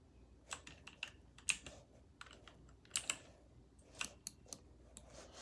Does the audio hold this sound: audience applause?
no